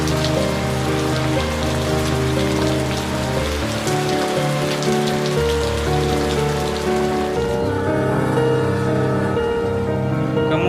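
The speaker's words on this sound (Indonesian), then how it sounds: "mengalami hujan lebat, bahkan disertai adanya butiran es" Heavy rain with hail falls near the line between Cirahayu and Ciawi stations, a dense, loud, continuous patter and drumming on surfaces with a tonal hum underneath and no voices.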